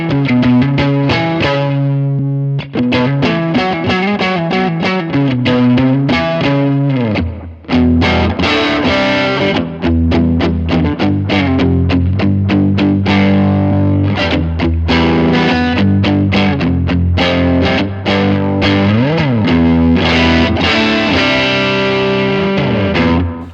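An electric guitar played through a Line 6 HX Stomp set to digital overdrive and fuzz rings out in loud, heavily distorted chords and riffs, sustained with brief gaps between phrases.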